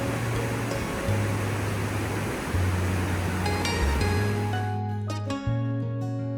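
Roaring waterfall near Sanggan village in Yanggu, a steady broadband rush of falling water, loud and continuous, with a low musical tone running underneath and no talk.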